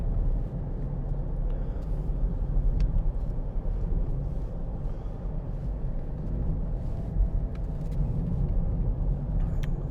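A 2012 Land Rover Freelander 2 TD4 diesel is driven on the road, with a steady low engine and road rumble running continuously from inside the cabin and no talk.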